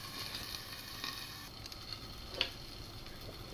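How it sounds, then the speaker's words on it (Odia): Banana slices frying in oil in a covered pan, a steady soft sizzle with faint ticking pops, quiet and continuous, with one small clink partway through. "ତାକୁ ଢକ୍କନ ଦେଇକି କିଛି ସମୟ ଭାଜିବା।"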